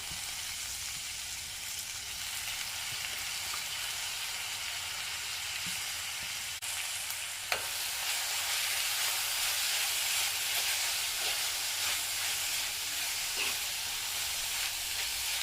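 Drumstick (moringa) leaves sizzle and hiss steadily in a pan with onions, a continuous frying crackle broken by an occasional clink of the stirring spoon about halfway through.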